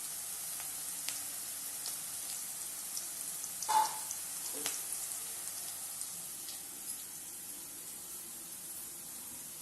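Ingredients for a fish curry fry in a pan until golden, giving a soft steady sizzle with faint crackles and one brief louder pop partway through.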